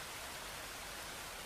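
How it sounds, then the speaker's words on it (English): Rain falling in a visual novel game, a soft, steady hiss that is faint and continuous, with no voices. "The rain, however, was more than loud enough to make up for that."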